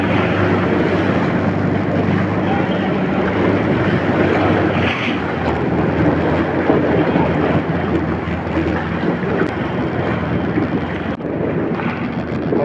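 A fishing boat's engine drones steadily out at sea, a constant low rumble mixed with wind buffeting the microphone and faint water noise, with no talk.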